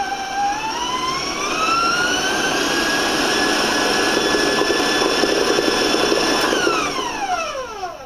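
An electric mixer beats red velvet cake batter for a half sheet cake, its motor whine climbing in pitch as the speed comes up, then holding steady and winding down near the end, loud and close.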